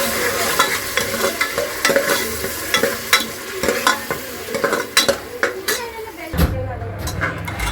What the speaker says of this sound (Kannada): ಇವಾಗ ಟೊಮೊಟೊ ಚೆನ್ನಾಗಿ ಫ್ರೈ ಆಗ್ತಾ ಇದೆ